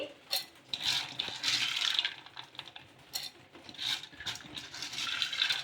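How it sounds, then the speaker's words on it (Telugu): Soaked green gram is tipped into a mixer jar, a run of soft rattling clicks and patters as the wet beans hit the container in several uneven bursts. "ఒక మిక్సీ జార్ అయితే తీసేసుకొని అందులోకి ఈ నానబెట్టుకున్న పెసలను అయితే వేసుకోవాలి"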